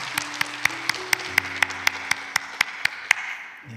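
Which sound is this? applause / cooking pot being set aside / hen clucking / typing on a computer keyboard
applause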